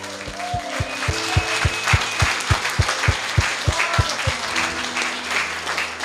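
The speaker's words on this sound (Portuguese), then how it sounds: "Aplauda o Senhor." A church congregation applauds during a Portuguese-language sermon. Dense clapping rises and falls under a regular low rhythmic thump, like a beat kept in time, before the clapping thins toward the end.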